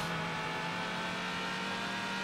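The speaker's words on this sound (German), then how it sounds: "wenn man dann wieder so einen brummenden Motor hinter sich hört" A tuned car engine in the racing game Need for Speed Hot Pursuit 2 hums steadily throughout, a continuous droning tone with no talk over it.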